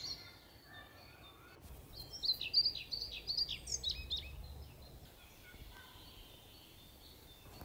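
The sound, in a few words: European pied flycatcher song, played bird sound sample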